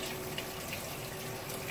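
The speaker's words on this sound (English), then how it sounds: "Hopefully the water's not too loud from the tower garden in the background" Water running in an outdoor tower garden on a California day, a faint continuous trickling and splashing with soft drips, distant in the background and alone.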